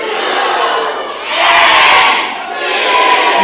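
A huge crowd at a live event in a large hall shouts a letter in unison on cue, building into a loud massed roar that swells, dips briefly and surges again.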